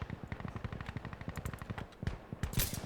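Rapid suppressed automatic gunfire in the video game Insurgency: Sandstorm, a steady stream of muffled shots in quick bursts, close and loud with no talk.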